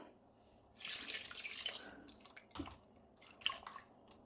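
Water is poured into a ground paste for a shrimp curry and stirred by hand in a bowl, giving a short burst of splashing followed by a few soft wet squishes and drips at close range.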